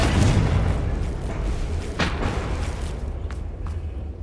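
Confringo fire spell explosions in the video game Hogwarts Legacy, with a loud, dense rumbling blast that carries a heavy low boom throughout, a sharper hit near the middle and fading crackles toward the end, with no talking.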